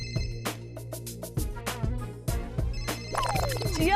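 Phone ringing indoors in a TV drama scene, a repeating electronic ringtone with short tonal pulses over a quiet room, clear but not loud, with no talk.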